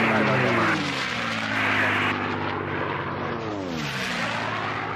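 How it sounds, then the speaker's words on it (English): A mid-engine unlimited-class racing airplane with an Allison engine roars past at the 2022 STIHL National Championship Air Races, its loud droning engine shifting pitch as it passes, with a commentator talking over it. "that mid-engine airplane, and has the Allison engine in it"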